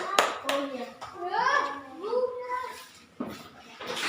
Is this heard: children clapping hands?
yes